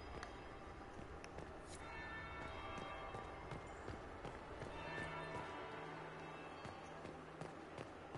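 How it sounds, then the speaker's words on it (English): A church bell rings in a Dragon Age Inquisition scene, faint and distant, with soft repeated strikes under a busy ambient backdrop of footsteps and light clatter. "That would be the second bell."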